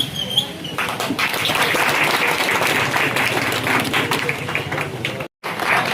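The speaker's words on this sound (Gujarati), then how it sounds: "જોરદાર તાળીઓ બતાવો।" Loud, continuous applause from a large audience at a village ancestor-remembrance event in Dihor swells up after a quieter start and keeps a dense roar of clapping, broken by a short silent gap near the end.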